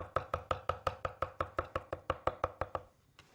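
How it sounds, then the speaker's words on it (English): Squash being chopped with a kitchen knife on a board, about sixteen steady, evenly spaced crisp knocks that stop near the end, close and loud with no talking. "So with a knife, just chop it up like this."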